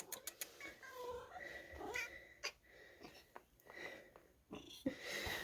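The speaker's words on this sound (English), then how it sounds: "kitty cat says hi." A cat meows and makes breathy, wheezing calls close by, with several short bursts and a few sharp taps scattered through the quiet.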